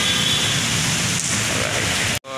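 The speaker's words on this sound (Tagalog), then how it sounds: "kanina mas malakas yung ulan, pero malakas pa rin to" Heavy rain pours down around a vehicle on a city street at night, a dense continuous hiss of falling water filling the whole clip before cutting off abruptly near the end.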